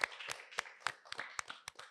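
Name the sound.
audience clapping for guest Darsawira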